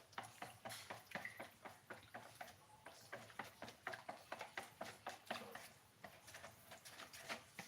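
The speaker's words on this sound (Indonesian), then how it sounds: "Aduk-aduk sampai tercampur rata, jangan sampai ada yang menggumpal." Batter being stirred with margarine in a bowl until evenly mixed, producing steady rhythmic scraping and knocking strokes against the bowl, close and fairly quiet, with no talking.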